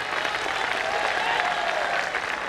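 An audience claps in dense, sustained applause at a political speech, a steady wash of many hands heard close and loud throughout, with no voice on top.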